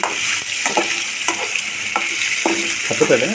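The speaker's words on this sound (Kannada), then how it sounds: "ಸ್ವಲ್ಪ ಎಣ್ಣೆ ಇಟ್ಟು ಇವನ್ನ ಹಾಕಿ ಫ್ರೈ ಮಾಡ್ಕೊಳೋಣ" Paneer pieces fry in oil with a constant sizzle, broken by scrapes and knocks as the pieces are stirred in the pan, loud and close.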